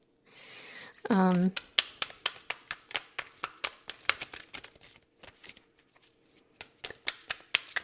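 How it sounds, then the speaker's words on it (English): A deck of Ancient Stones Oracle cards is riffled once, then shuffled by hand in a quick run of crisp, close flicks and taps, with a voice speaking in the background. "So let's pull a few of more of the Ancient Stones Oracle here."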